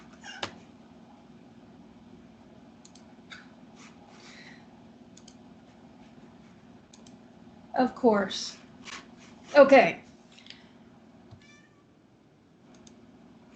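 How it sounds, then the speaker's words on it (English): A house cat meows twice in a row, loud and close, after long near-silence over a steady electrical hum; a person says a few brief words. "And there's my cat, who hasn't been in here in weeks."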